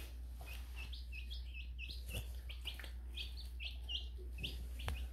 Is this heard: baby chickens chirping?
yes